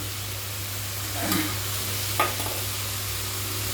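Poppy seed paste with two chillies cooks in a pan, a steady soft sizzle with a couple of brief stirring scrapes, no voices.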